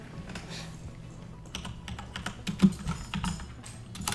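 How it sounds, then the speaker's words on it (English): Fast, forceful typing on a computer keyboard, a dense run of close, sharp key clicks with brief bursts of harder strikes, heard alone without talk. "Sorry for the violent typing."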